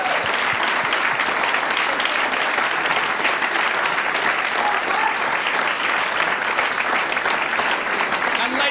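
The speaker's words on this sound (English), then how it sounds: "a big, big round of applause for your runner-up in this year's tournament" A ladies' pool tournament audience gives the runner-up a dense, sustained round of clapping at the 2008 final. The applause is steady and full from start to finish, with a voice faintly audible beneath it.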